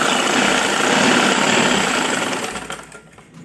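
A sewing machine runs a steady stitching burst through fabric while a strip is sewn onto a winter frock; loud and close, whirring continuously before slowing and fading near the end, with no talk.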